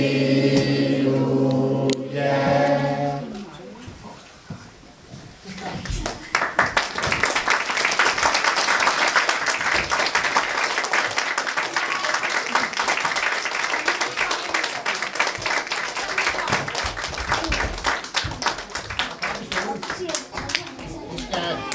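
Scout audience at a Christmas event clapping in a dense, sustained burst of hand claps after a sung passage, loud and close, with voices mixed in.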